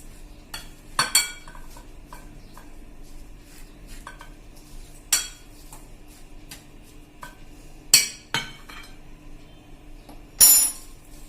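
Crushed rock sugar is mixed with rose petals in a bowl, with scattered clinks and scraping knocks against the dish, close and quiet, separated by gaps.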